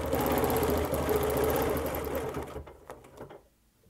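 Close, steady whirring and rapid needle clatter come from a sewing machine stitching around a quilt, then it slows and stops, leaving a few soft clicks of fabric handling.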